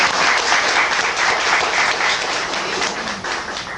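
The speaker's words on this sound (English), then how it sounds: "Give her one more round of applause." Audience applause at a lecture on ancient Egypt and African history, a dense, steady roar of many hands clapping throughout, fairly loud and close, with no talking over it.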